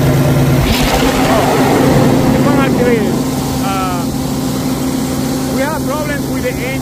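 A PACCAR MX13 truck engine with a compression leak into the coolant tank runs steadily, a loud continuous drone close by with bubbling and whistling tones over it.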